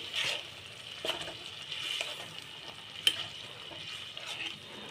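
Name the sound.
tomato paste added to frying masala and stirred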